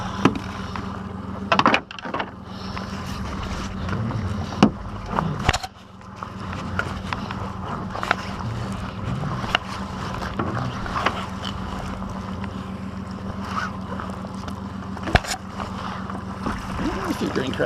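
A boat motors steadily across the water toward buoys with a continuous low engine drone, punctuated by occasional knocks and thumps from the hull.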